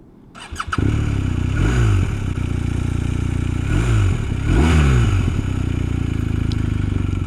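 A BMW R 1250 RS motorcycle in Dynamic Pro mode starts with a short clatter, then revs and accelerates in rising, falling sweeps, loud and close, with no talking.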